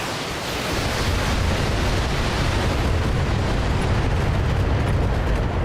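Missiles firing and exploding in a mech video game, a dense continuous roar of blasts and rumbling that swells after the first half second and stays loud throughout, with no talk.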